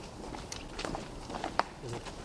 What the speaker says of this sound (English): That was someone walking about.